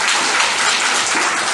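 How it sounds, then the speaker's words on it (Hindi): Audience applause fills the hall at a Brahma Kumaris Diwali celebration in Ambala Cantt: a dense, even wash of clapping held at one loud level for a brief moment. "एक बार जोर से तालियां बजाएंगे"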